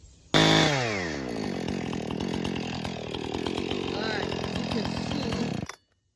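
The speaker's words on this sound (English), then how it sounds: "I got tired of using the kids' little chainsaw, so I got out a much larger one." A large chainsaw roars into life and cuts through an oak log, a loud, sustained buzzing with slight pitch shifts as it bites, running for several seconds before cutting off abruptly.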